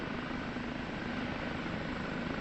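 Kiowa helicopter in the DCS flight simulator, a constant low rotor and turbine drone that holds an even, unchanging level throughout, with no talking.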